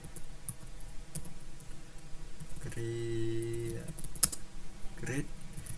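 Someone typing a command on a computer keyboard, with scattered close key taps around a stretch of talk.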